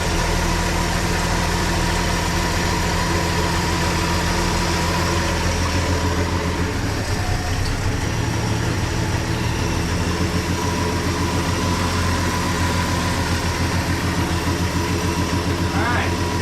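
A Plymouth Valiant engine idling steadily after sitting for 18 years, a continuous near rumble with a brief dip in the middle, with people talking over it.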